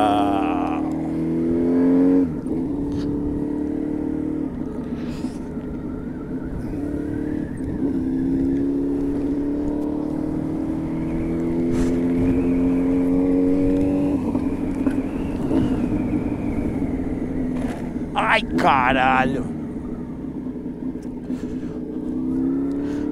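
A Suzuki B-King motorcycle fitted with a KLE 621 exhaust idles and revs on a cold day, a close, loud, rumbling engine drone that swells and eases, with a brief shout from a rider and a few sharp transient noises near the end.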